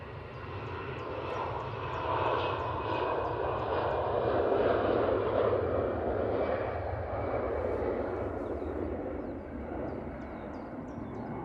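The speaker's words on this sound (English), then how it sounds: "Also got an EasyJet now on the taxi going out for a departure." An EasyJet jet airliner departing Manchester Airport from runway 05 left, a steady distant engine roar that swells in the middle and eases slightly toward the end, with no voices.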